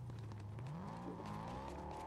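A car engine in Fortnite revs and shifts pitch, a steady tonal drone rising and falling over two seconds at moderate distance, with no talk over it.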